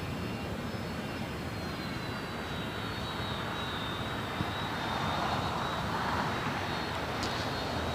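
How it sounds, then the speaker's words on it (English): Alaska Airlines Boeing 737-800 jet on its takeoff roll at LAX, a steady broadband engine roar with a thin high whine that holds level, then swells slightly toward the end as the aircraft accelerates, heard from a distance. "737-800 now rolling down 25 right"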